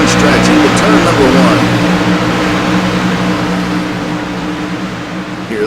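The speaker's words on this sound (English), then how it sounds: "Hear the scream of those engines as they came by close." Race car engines scream past at close range on the Kansas Motor Speedway front stretch, a loud, sustained roar that swells and then slowly fades as the pack moves away.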